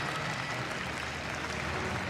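Fans applauding the Team Japan gold medal winners at the Karate World Cup, a dense, continuous patter of clapping from a large arena crowd, steady and even throughout.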